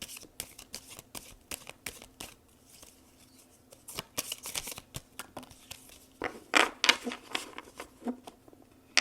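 Tarot cards are shuffled for a reading, giving soft, quiet riffling and flicking bursts in an irregular rhythm, growing a little busier toward the end, with no voices over them.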